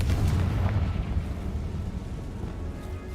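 A Confringo blasting spell explodes in a Harry Potter video game, a loud, deep, rumbling boom that swells at once and rolls on steadily before slowly easing.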